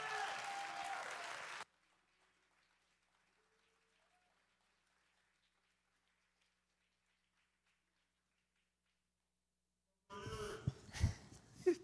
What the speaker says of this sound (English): let's give Brother Ryan a good round of applause in Jesus' name